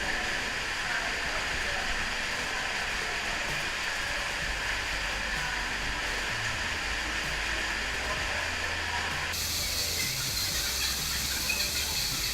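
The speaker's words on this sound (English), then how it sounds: "Say bye-bye, waterfall." Steady broadband roar of a waterfall at a swimming spot on the outskirts of Oman, loud and continuous throughout, with a slight shift in tone near the end as the listener moves away.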